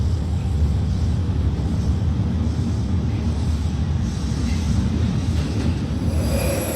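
A video-game New York City subway R142 train departs Woodlawn station, rumbling and rolling along loudly with constant low roar and faint wheel squeal, steady throughout.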